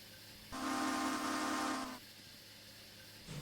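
A locomotive on a railway stopping service gives one loud, steady whistle blast of about a second and a half, then drops back to a low engine rumble with a faint hiss.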